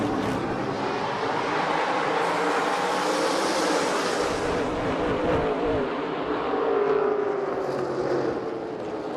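SRX race cars accelerate at a restart at Lucas Oil Raceway, a loud, continuous broadband engine roar with rising and falling swells throughout, no voices over it.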